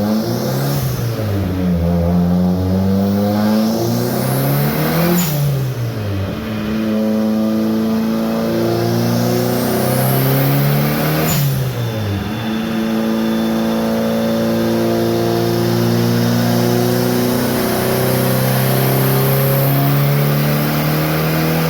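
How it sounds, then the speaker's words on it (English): A SOHC turbocharged car engine revs hard on a dyno, climbing through gears in repeated rising sweeps with a sharp shift between them, loud and continuous throughout. "I'm going to do another pull, see if we gain a little bit more power"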